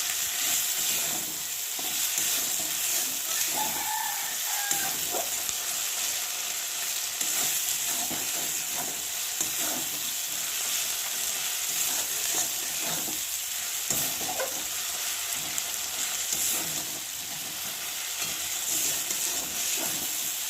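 Masala for desi chicken curry sizzles steadily in oil while being stirred and scraped around the pan, a close, continuous hiss with recurring clicks and scrapes of the utensil over about twenty seconds.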